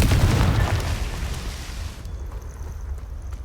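Confringo blasting spell explosion in Hogwarts Legacy, a loud close boom that fills the start and decays into a rumbling tail, with no talking.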